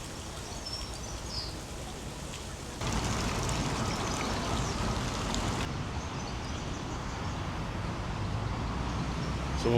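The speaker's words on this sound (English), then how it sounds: "A little sort of water feature here." Steady splashing water fills the scene, a constant rushing patter with a faint bird chirp early on, no voices.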